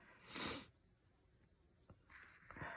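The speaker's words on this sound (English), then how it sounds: "Excuse my sniffing. It's allergies again." Two quiet allergy sniffs come close to the microphone, a longer one and then a shorter pair, with faint breathing between them.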